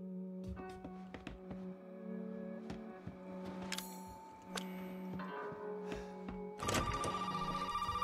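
A telephone rings in the horror video game Resident Evil 7, sounding as steady repeating electronic tones over a dim, ticking ambience before a louder, brighter ring bursts in near the end.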